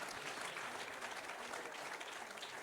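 A continuous wash of faint, distant applause from an awards ceremony audience honoring a pottery company, even and sustained throughout with no speech.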